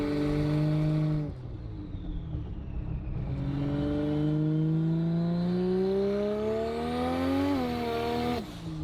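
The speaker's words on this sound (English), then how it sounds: "It sounds like the motor's hitting a wall slightly though." A Holden Barra engine fitted in a Foxbody Mustang revs loudly and close, its droning pitch climbing steadily through a long pull and then dropping off, with no voices over it.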